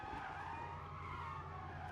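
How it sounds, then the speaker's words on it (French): A car skids on the road in a video game, with a steady tire squeal over engine noise that holds for about two seconds with no talk. "petit dérapage au calme"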